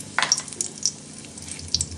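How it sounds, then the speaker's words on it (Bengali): Spices and bay leaves crackle in a little hot oil in a wok, a soft sizzle with a few sharp pops and light stirring clinks, quiet and close, with no voices. "আলুর দমের মশলাটা ভাজার জন্য এখন কড়াইতে অল্প তেল দিচ্ছি।"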